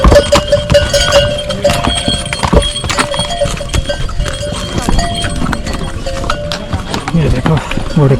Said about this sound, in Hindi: ये देखो घोड़े खच्चर चल रहे हैं।